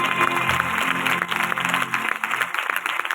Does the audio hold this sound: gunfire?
no